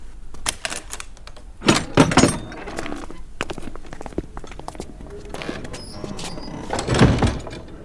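A door opens in The Martian Chronicles game, heard as a run of sharp clattering clicks and knocks with louder mechanical bursts near the start and again toward the end. No one speaks.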